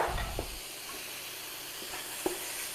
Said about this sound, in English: And we are sizzling away